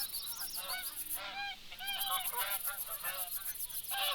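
Geese honk in the hunting video game theHunter: Call of the Wild, several birds calling together in clear repeated honks that come close and moderately loud, with only a short lull partway through.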